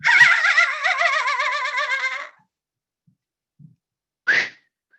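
A human voice imitates a dolphin with a long, wavering, high-pitched squeaky whistle for about two seconds, then silence, a tiny click and a short rising squeal near the end.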